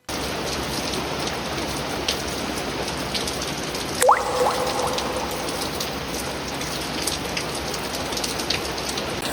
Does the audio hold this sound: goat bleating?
no